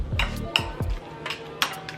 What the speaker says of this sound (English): And really what I'm doing, I just smash these up.